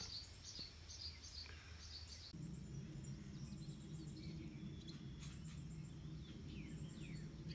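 Swallows chirping outdoors over a rural field, quick high twittering calls coming in short clusters, faint and somewhat distant over a steady low rumble and insect hum.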